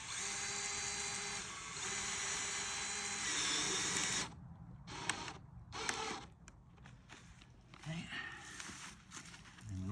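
A power drill drives self-tapping screws into an aluminium front door sidelight frame. It whines loudly and steadily for about four seconds, then gives several short, choppy bursts.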